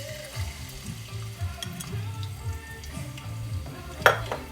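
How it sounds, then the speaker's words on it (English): Garlic goes into extra virgin olive oil in a heated pan for a bok choy stir-fry. It fries with a steady, moderate sizzle while being stirred, and a sharper clatter comes near the end over soft background music. "So I've heated the pan, and I'm going to add in my garlic."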